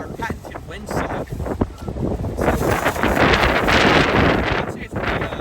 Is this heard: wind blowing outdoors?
yes